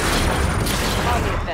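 Gunfire in the StarCraft 2 video game, a dense loud continuous fusillade of rapid shots and booms with game voices over it.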